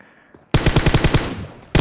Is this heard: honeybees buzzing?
no